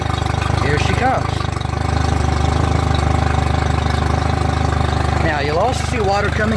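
A boat's outboard motor idling on a flushing hookup during a freshwater flush, running as a steady, loud, close drone with a constant rumble that holds for the whole stretch.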